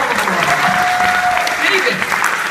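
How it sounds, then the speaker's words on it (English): Applause from an audience fills the space, a dense continuous patter, with a voice speaking over it. "let's have a big round of applause for our first guest, Mr. David Warwick-Chuck."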